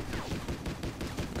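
Gunfire in the video game Battlefield Heroes, a rapid rattle of overlapping shots in quick repeated bursts, fairly faint and steady, with no talking over it.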